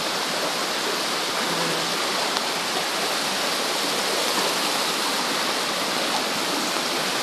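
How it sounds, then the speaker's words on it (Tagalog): A river near Dolores, Quezon rushes with a steady, dense roar of flowing water that stays even and unbroken throughout, with no voices over it. "Ilog sa tapat ng Dolores"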